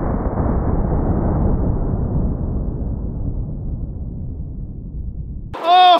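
A .44 Magnum lever-action rifle loaded with Underwood 240-grain hollow points fires into a can of refried beans: one loud, booming blast that rolls on for several seconds before a voice reacts at the end.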